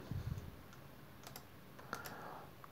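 Brief typing on a computer keyboard while entering a library name in circuit design software, a few soft key clicks scattered over a quiet background, faint and close.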